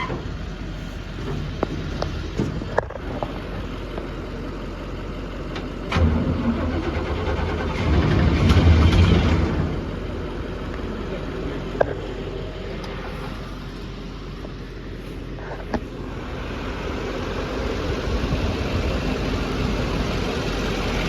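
A car engine idles steadily at close range, a low continuous rumble with a few brief clicks and knocks and a swell midway, with no talk over it.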